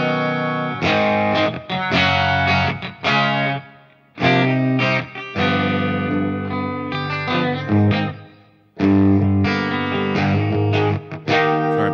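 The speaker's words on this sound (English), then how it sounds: "The delay, there's just a little bit of a plate reverb on there." Electric guitar played through a Line 6 Helix with delay and a light plate reverb, bright sustained chords and notes ringing out in phrases with short decaying gaps, no talking.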